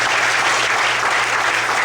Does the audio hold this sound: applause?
yes